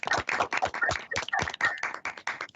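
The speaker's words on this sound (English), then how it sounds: "Please join me in offering a round of applause for all of our Complete Count Committee members." Brief, choppy clapping from a handful of people on open microphones during an online census event, honoring Complete Count Committee members. The claps come in uneven bursts mixed with what sounds like voices.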